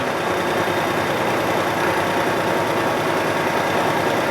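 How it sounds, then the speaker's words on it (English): A metal lathe slowed to about 400 RPM takes a finishing cut, giving a steady, dense mechanical hum and whir with no breaks, loud and close throughout. "This tool is a high-speed tool, so I slowed it down considerably for this. We're about 400 RPM"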